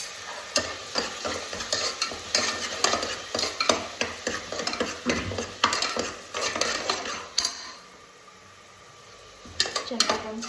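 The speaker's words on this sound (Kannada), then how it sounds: "ಶುಂಠಿ ಬೆಳ್ಳುಳ್ಳಿ ಪೇಸ್ಟ್, ಈರುಳ್ಳಿ ಪೇಸ್ಟ್ ಬೇಯೋವರೆಗೂ ಮಸಾಲ ಮಾಡ್ಕೋಬೇಕು" Ginger-garlic and onion paste masala fries in a pan while a spoon stirs and scrapes in quick, repeated clanks over a low sizzle, close and busy, pausing briefly near the end before stirring resumes.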